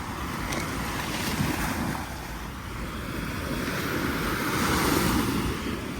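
Sea waves wash in at the seaside during an evening dinner by the water, a continuous loud surf roar that swells and ebbs with heavy wind buffeting across the microphone.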